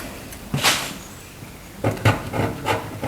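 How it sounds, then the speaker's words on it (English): An old woodworking chisel scrapes paint off a surface, giving one short scraping burst early on and then a run of four or five rough strokes close by, with quiet pauses between them. "I'm just using an old woodworking chisel to scrape off the paint in these parts where I think it should be scraped off."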